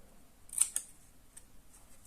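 Scissors snip through paper into long tabs for a locomotive-shaped candy box craft, with a couple of quick, crisp close cuts and then faint small ticks in a quiet room.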